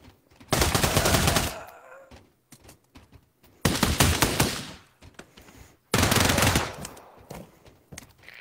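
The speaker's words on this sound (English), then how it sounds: "They're shooting everyone out there." Gunfire in the VR shooter Pavlov, three long bursts of rapid automatic fire with quieter gaps between them, loud and close.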